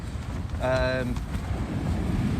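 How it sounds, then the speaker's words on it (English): Strong wind on a coastal lane in Suffolk buffets the microphone in a continuous low roar, with a brief voice-like tone cutting in partway through. "You'll see how windy it is"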